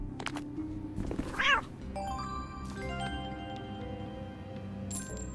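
A cat meows in the video game Golden Trails 2, one short clear meow amid soft chimes and ambient game music, with no talking.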